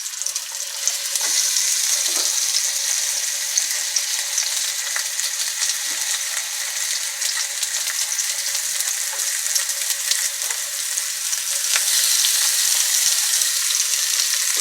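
Mushrooms and meat patties for Salisbury steak fry together in a pan, giving a steady, close sizzle with crackling spatters throughout and no talking.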